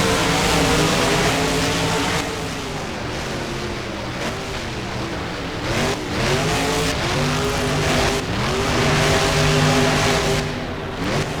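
Monster truck engines, Gravedigger among them, roar and rev continuously in BeamNG as they race over tabletop jumps at a fairgrounds BMX track, loud and close with rising and falling engine pitch throughout.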